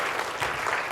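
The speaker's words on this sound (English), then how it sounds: "let's give IT a round of applause" An audience at a lung cancer partnership presentation applauds. A brief, dense patter of many hands clapping fills the room, fairly close and steady, with no voices heard.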